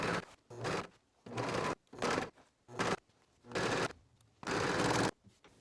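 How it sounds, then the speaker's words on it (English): An overlocker serger stitches a fabric seam on culottes in bursts, six loud runs of whirring stitching separated by short pauses, close by and with no talk. "I'm gonna take it to the serger and then just run it down"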